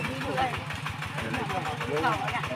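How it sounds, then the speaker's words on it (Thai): A farm tractor engine runs in a rural village, making a steady, rhythmic mid-pitched chugging. It sounds fairly faint and stays continuous under someone speaking. "เขาใช้รถไถตัวนี้เนาะ"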